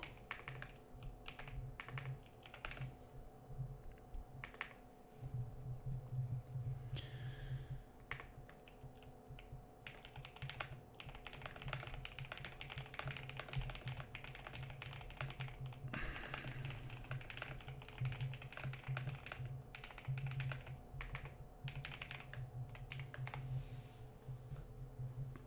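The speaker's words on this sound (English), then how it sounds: "I'm typing." Steady clicking of computer keys being typed continuously at close range, a dense rapid patter of taps with brief pauses over a low background hum.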